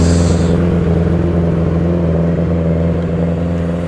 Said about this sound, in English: There's a wild WRX.